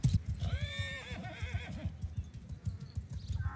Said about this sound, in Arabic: ده حتى الحصان تاه مش عارف انا فين بينادي عليا